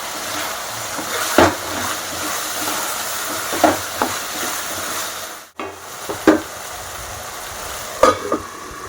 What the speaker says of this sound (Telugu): నెక్స్ట్ అయితే పొటాటో ఫ్రై చేస్తున్నా